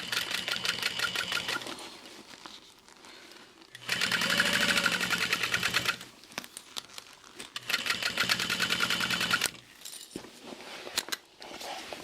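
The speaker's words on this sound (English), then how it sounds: "so now I can sew these together" A sewing machine stitches a tote bag in two long bursts of fast, even mechanical rattling, separated by quieter pauses with small clicks and handling noises.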